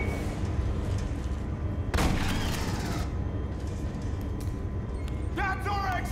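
Shotgun blasts in the sci-fi shooter Aliens: Colonial Marines, heavy booming shots against constant dense game noise, one sharp burst standing out near the middle and a brief high chirping flourish near the end.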